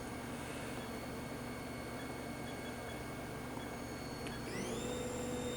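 A 1997 HAAS vertical machining center with a 7,500 RPM spindle and 20-position tool changer runs its main spindle at 3,000 RPM, a quiet, steady whine and hum with a rising tone near the end.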